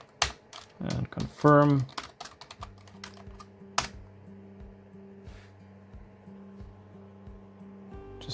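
A root password being typed on a computer keyboard during a VMware ESXi 8 installation: a quick burst of close key clicks, then scattered single taps, with a brief spoken phrase and a steady low hum behind.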